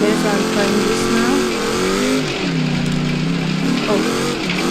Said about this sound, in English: SP Dune Kicker, it's a very good car. It's an off-road car that can do many jumps